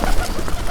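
Pigeon-like birds coo in a brief, close, loud burst of soft throaty calls with no voices present.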